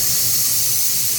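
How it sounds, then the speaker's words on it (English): A Laura Star iron lets out a steady, loud hiss of steam, close up and unbroken, held down by a button press over a foam-backed quilting project, with no voices. "this is the kind that has steam when I press my finger on this button here"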